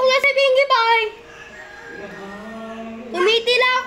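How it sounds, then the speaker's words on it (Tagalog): A pet chicken crows loudly and close by, one long drawn-out call followed by the start of another, with a person talking at the very beginning. "tumitilak na naman"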